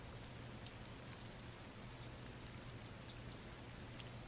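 Steady rain falling, a dense constant hiss with faint scattered drop ticks, soft and continuous with no voices.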